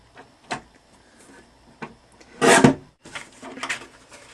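A paper trimmer slices cardstock for a color block collage layout, a few short scraping swipes and taps, with one louder, longer rasping cut in the middle, close and dry.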